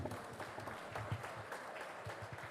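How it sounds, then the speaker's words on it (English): Audience applause at a Rotary Foundation seminar and dinner, scattered claps of moderate strength in a room, slightly uneven and fairly quiet, with a little background murmur. "That applause is not loud enough."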